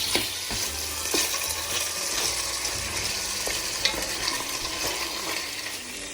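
Veal for axoa sizzles and spits in a hot pan over high heat, a constant crackling hiss broken by occasional sharper pops and scraping stirs as the meat browns.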